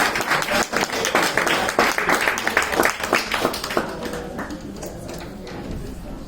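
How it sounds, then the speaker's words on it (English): An audience at an investment seminar applauds, with a dense patter of clapping from many hands that gradually thins and fades out. "I thank you for the clap"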